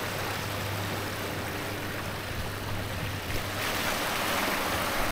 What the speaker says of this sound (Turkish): Baba dalga nasıl geliyor?